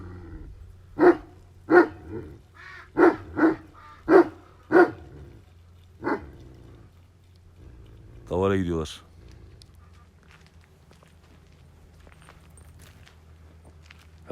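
A dog barks repeatedly in short, loud bursts with uneven gaps, then a single whining yelp follows amid quiet outdoor background.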